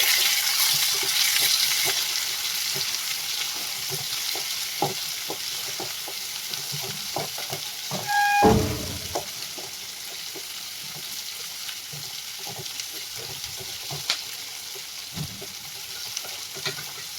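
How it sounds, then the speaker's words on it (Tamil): Onions sautéing with green chillies in a pan for guava chutney: a steady close sizzle with scraping stir strokes, and a sharp metallic clank partway through. "இப்போ வெங்காயம் போட்டுக்கலாம். வெங்காயம் சேர்த்து நல்லா வதக்கிக்கணும்."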